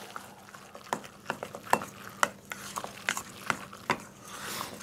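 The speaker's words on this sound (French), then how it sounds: "On mélange tout." Guinea fowl stuffing with mushrooms being stirred and mixed in a pan, giving irregular scraping and clinking strokes of a utensil at close range over a low sizzle, with no talking.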